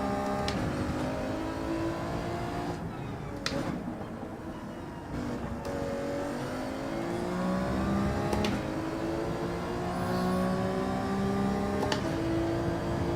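Race car engine in Gran Turismo 7 lapping Road Atlanta, a continuous whining drone that climbs through the gears with shifts and brief lifts, steady and close throughout.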